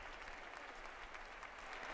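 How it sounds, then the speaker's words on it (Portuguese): A large congregation applauds Pope Francis at an outdoor Mass in Marseille, steady distant clapping forming an even wash of sound without pause, no voices over it. "os aplausos revelam um profundo agradecimento à presença do Papa, à sua visita a Marseille"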